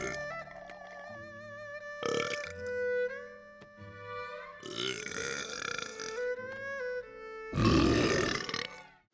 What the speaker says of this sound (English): We had belch stand-in doubles.